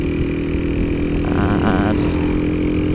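EMA 100cc motorcycle on its stock exhaust, a steady droning engine hum heard continuously and fairly close while riding, with no talk.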